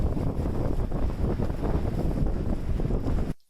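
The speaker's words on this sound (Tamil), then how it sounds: "அவ்வளோ காற்றுங்க." Strong wind buffets the microphone on Velliangiri mountain, a loud continuous roaring rush that gusts unevenly before cutting off abruptly.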